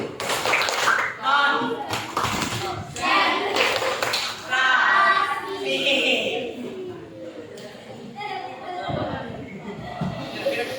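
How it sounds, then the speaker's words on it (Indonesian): A classroom of children performs rhythmic concentration clapping, with bursts of patterned claps separated by stretches of children's chatter and a teacher's voice talking over and between them. "Tepuk konsentrasi."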